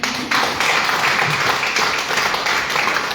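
Loud, steady audience applause for Rajesh Kumar Das at a training programme event in Giridih, a dense continuous clatter of many hands that starts abruptly and holds at full strength throughout.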